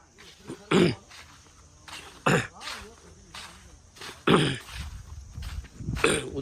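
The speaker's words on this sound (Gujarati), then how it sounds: "ઉધરસ આવી ગયો" Several sharp coughs or throat-clearing bursts from a man outdoors in a groundnut field, spaced a second or two apart and fairly close, with quieter murmuring and rustling between them.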